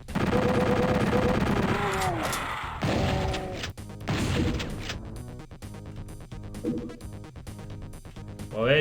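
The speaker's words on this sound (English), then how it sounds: "Well, there's your chain gunners." Chaotic Doom combat with chaingunner enemies firing chainguns: loud rattling gunfire mixed with crashes, explosions and game tones, busy and dense throughout.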